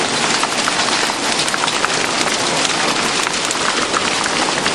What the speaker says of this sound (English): my cars are getting beaten by hail